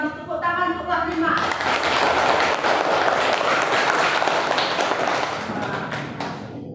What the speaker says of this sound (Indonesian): Tepuk tangan untuk kelas 5